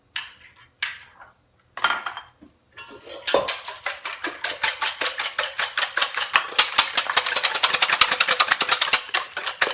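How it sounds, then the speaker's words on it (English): Eggs whisked in a bowl while making grain-free bread: close, rhythmic clinking of the whisk against the bowl that starts hesitantly and settles into a fast, steady beat. "Now I'm just going to whisk those up."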